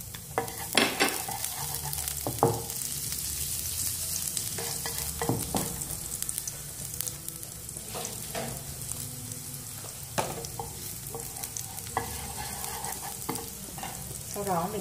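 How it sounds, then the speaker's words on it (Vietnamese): Minced garlic frying in hot oil in a pan, a continuous loud sizzle with stirring scrapes and clinks throughout. "khi dầu đã nóng lên rồi thì các bạn sẽ cho mình phần tỏi băm trước nhé"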